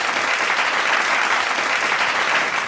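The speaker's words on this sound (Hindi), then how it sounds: "ज़ोरदार तालियों से स्वागत कीजिए ताज मोहम्मद जी का।" A crowd at a stage show of Urdu-Hindi shayari poetry gives loud, sustained applause, a dense and even clapping that carries on throughout with no voices over it.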